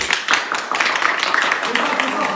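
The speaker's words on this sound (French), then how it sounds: "Et tu vas bien applaudir" Applause inside a villa. A few seconds of dense, lively clapping, with voices talking over it.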